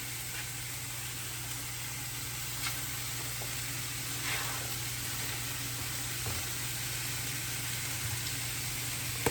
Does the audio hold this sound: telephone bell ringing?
no